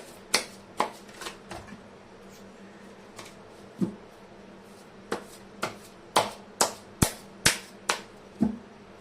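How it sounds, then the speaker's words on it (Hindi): A deck of tarot cards is shuffled by hand: a run of crisp, snappy riffles and slaps, sparse at first, then coming in a quick, regular burst, close and fairly loud. "मैं कर लेती हूँ कार्ड की शफलिंग"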